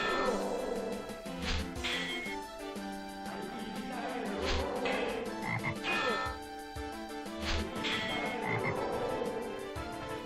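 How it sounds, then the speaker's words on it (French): A video game frog croak sounds each time an enemy mob strikes, recurring about every three seconds as a loud, close croak over continuous game music. "À chaque fois qu'il me tape, ça fait un bruit de grenouille."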